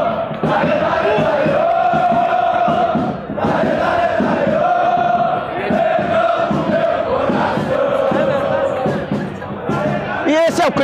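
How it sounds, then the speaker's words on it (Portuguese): Flamengo supporters at their official gathering point in Lima, ahead of the Copa Libertadores final against River Plate, sing and chant loudly in unison, a dense, continuous crowd sound with rhythmic swells and shouts. "Esse é o clima de festa aqui no QG, no ponto de encontro oficial da torcida do Flamengo aqui na capital peruana"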